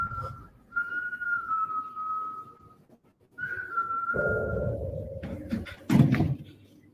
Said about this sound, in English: whistling can be heard in the living room